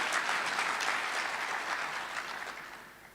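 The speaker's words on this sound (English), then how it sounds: "Let's give him a round of applause." Conference audience applause at a closing session, a steady wash of many hands clapping that gradually fades over a few seconds.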